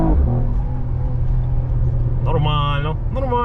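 A Mercedes E53 AMG's engine rumbles steadily nearby at idle, rising into a brief louder rev toward the end, with voices shouting over it.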